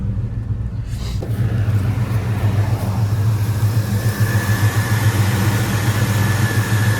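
A 1966 Cutlass V8 idles steadily with a carburetor not yet tuned, giving a close, continuous low rumble that holds an even throb throughout with no voices.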